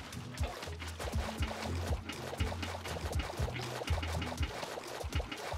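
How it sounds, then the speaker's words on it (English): Water placed on platforms in a hardcore Minecraft world, flowing with a steady watery trickle and rushing noise, joined by clicky game sounds and low tonal background music. "I need to place water on these platforms for the guardians to flow onto the campfires"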